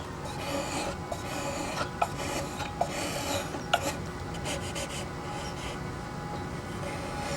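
A wood block carved with a fresh blade for a model aircraft fuselage, giving a continuous soft rasping, scraping texture with a few sharp little ticks scattered through it.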